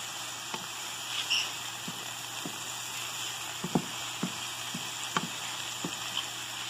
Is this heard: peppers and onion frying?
yes